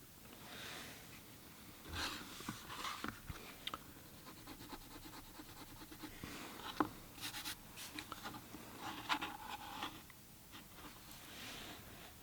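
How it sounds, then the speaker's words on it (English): A pencil draws a light line along a ruler to mark the center of a menorah for a Hanukkah painting. It makes soft, scratchy strokes in intermittent bursts, close and quiet, with no talking. "We'll just get a light pencil line for our center"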